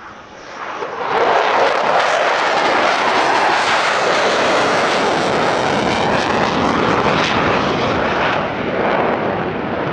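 A Dassault Rafale fighter jet roars past in a subsonic airshow display at Villaroche near Paris, a loud sustained engine blast that swells in quickly and holds at full strength without speech.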